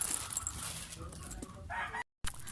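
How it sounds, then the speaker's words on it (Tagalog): Rooster crowing and hens clucking at a distance behind indoor room noise, with a brief moment of near silence toward the end. "Pasensya na kayo guys sa manok."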